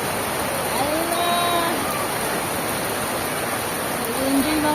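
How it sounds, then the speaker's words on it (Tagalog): Heavy rain pours in a steady, dense hiss around a flooded spot where children play, with faint voices and brief whistling calls rising over the downpour. "Lakas ng ulan, oh."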